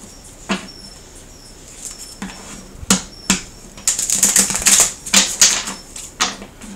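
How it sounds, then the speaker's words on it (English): Tarot cards being shuffled close up: quick riffling bursts and soft taps, growing into a dense flurry of crisp flicks before tapering off. "Do a few more shuffles."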